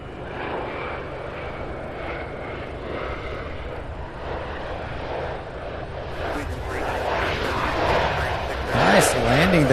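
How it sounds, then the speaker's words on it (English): An American Airlines jet lands at CVG in Cincinnati, its engine roar building steadily and growing louder toward the end. Someone speaks over the rumble. "Nice landing there, American."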